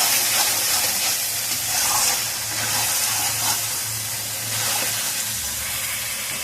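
Spices sizzling and frying in oil in a pan for a goat head curry, a steady bright hiss with soft stirring scrapes, continuous and close with no one speaking.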